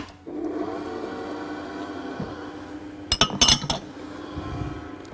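Banana brownie batter stirred in a bowl, with a low steady background hum and then a short cluster of utensil clinks and scrapes against the bowl near the end; nobody speaks.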